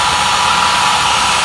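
A blower runs steadily at close range, a continuous loud hiss of rushing air while heating decals to soften them, with no pauses or change in pitch.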